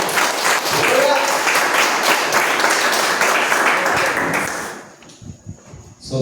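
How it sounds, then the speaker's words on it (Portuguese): A church congregation breaks into loud, sustained clapping for several seconds. Voices mix in, then the applause fades out near the end. "Aplauda o Senhor."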